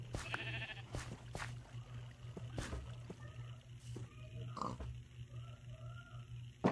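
Sheep bleat in a Minecraft skyblock world, a few short, quiet game bleats spaced apart over a faint low background hum, with no talking.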